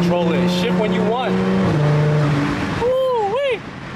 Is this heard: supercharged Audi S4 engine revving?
yes